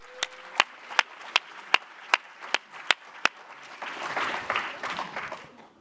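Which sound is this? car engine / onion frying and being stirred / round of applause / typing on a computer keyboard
round of applause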